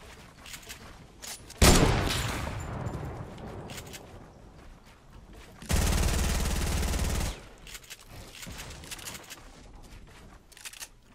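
Gunfire in Fortnite comes as two loud, dense bursts, one sudden and decaying, the other a sustained rapid stretch, separated by quieter stretches of faint scattered shots.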